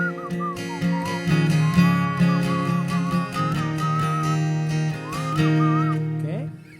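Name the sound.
person whistling a guitar break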